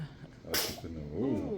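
A short, sharp sneeze bursts out mid-clip, close and loud, with a voice speaking softly before and a cooing voice right after.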